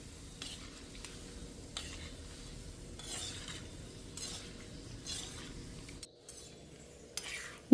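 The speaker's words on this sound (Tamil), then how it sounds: "அதை லைட்டாக கிளறி விட்டுட்டு அதுக்கப்புறமா கரண்டியில் அப்படியே கிளறி விடுங்க" Semolina jamun balls frying in oil on a low flame, stirred gently with a ladle: a low, quiet sizzle broken by periodic swishes and light metal scrapes of the ladle, ending with a sharp clink, no talking.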